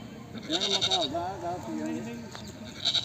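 Goats bleat repeatedly at a busy livestock market in Harike Kalan, several wavering calls close by, rising over a constant murmur of people talking.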